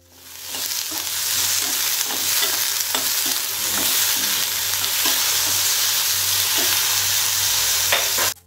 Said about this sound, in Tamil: உப்பு சேர்க்கறதுனால வெங்காயமும் தக்காளியும் வந்து சீக்கிரமாக வதங்கிடும்